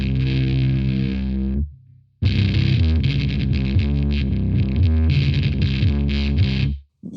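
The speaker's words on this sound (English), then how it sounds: "Should sound pretty boomy because I've got the tone down very low." An electric guitar runs through a Daphon Heavy Metal E20MT distortion pedal with the tone knob turned very low. Loud, boomy, saturated chords ring out, then cut off briefly before a second, longer burst of heavy distorted strumming.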